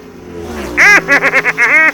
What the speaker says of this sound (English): we're getting reports of an unsanctioned car on the track